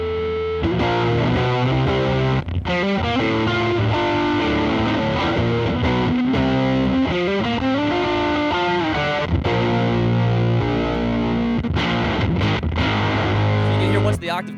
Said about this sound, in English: Once the octave comes in, so it gets a little splattier sounding, the signal gets a little bit more complex.